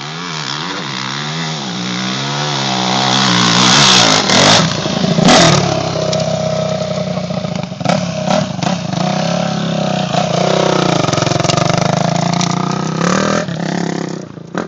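An old truck engine runs loud and close, revving up and down with clattering mechanical noise and rough accelerating surges, steady for about fifteen seconds with no voices.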